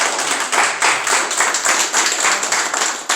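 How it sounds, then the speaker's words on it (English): Audience at a precinct clergy council holiday brunch claps by hand for a police commissioner, a steady dense patter of many palms that swells in waves, fairly loud and near, with no talk over it. "Let's give him a hand clap today."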